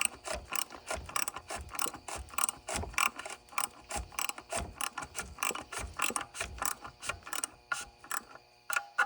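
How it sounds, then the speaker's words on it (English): A ratchet clicks in rapid, steady bursts as a part is snugged down during an oil change on a Chrysler Town & Country or Dodge Grand Caravan minivan, close and loud with no talking. "Make our ratchet, just get her down in there snug."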